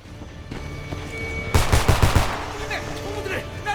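Pistol gunfire rings out in the first-person shooter Homefront: a rapid cluster of loud shots in the middle of the clip, set against game ambience before and after.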